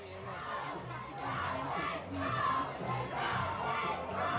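Parents cheering and yelling from the riverbank for schoolboy rowing crews at a regatta, a continuous crowd roar with surging shouts that swell and ease in waves, loud and fairly close.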